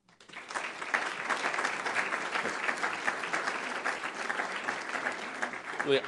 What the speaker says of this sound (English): I stand up here and you clap and it feels really good